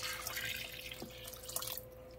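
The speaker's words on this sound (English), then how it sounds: "Then I'm gonna add some water." Water pours into a pot of collard greens soup in a kitchen, a close splashing and trickling stream that fades out near the end, with a faint steady hum underneath.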